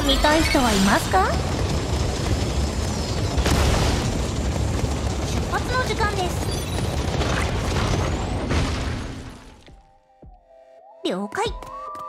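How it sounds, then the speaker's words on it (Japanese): Fireworks explode in the action game Bronie (Haxxor Bunny) on the Light Bound map: loud, dense bursts and booms roll on continuously for about nine seconds, then fade to a quiet tonal hum with a few faint blips. "花火を見たい人はいますか？"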